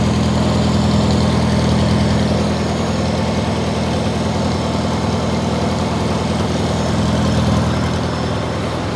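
A 1953 Farmall Cub tractor, left neglected for two years, idles after starting, its engine a loud close steady rumble with an even low throb and no variation or voices.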